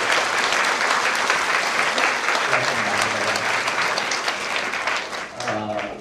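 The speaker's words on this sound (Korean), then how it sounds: "박수 한번 하겠습니다." Wedding guests applaud right after a couple is pronounced married at a church ceremony, with dense, steady clapping from a crowd that fades slightly toward the end as a voice begins speaking.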